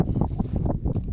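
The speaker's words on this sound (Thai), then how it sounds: "โอ้ลมลม" Wind blowing outdoors across a snowy landscape, a steady low rumbling gust buffeting the microphone, fairly close and continuous with no talk.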